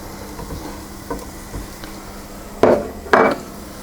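Worcestershire sauce and tomato paste are stirred in a pan for shepherd's pie, with soft scrapes and a couple of louder clacks of a utensil against the pan, close and alone.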